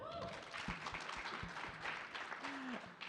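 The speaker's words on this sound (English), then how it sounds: "A round of applause." Applause from an audience at a venture competition event welcoming a judge, moderately loud and brief, with voices and some tonal sounds mixed in.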